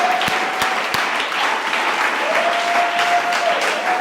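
A church congregation applauds and acclaims Jesus during a morning service of thanksgiving, a continuous, full wash of clapping with a few sharper individual claps standing out near the start.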